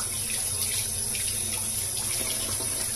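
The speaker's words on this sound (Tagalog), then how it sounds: "hugasan na natin siya mabuti" Running tap water splashes steadily into a sink as a cleaned tilapia fish is washed under it, a close, constant hiss and gurgle with faint shifting splashes when the fish moves in the stream.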